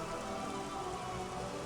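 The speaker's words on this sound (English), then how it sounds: "I love how this place looks in the rain." Steady rain hisses and patters over an outdoor area in Metroid Prime Remastered, a dense, even downpour with no breaks and no voices.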